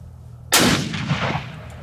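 A single sharp crack from a Ruger Precision Rifle fired on a 200-yard range, loud and close, followed by a short rolling echo that fades over about a second.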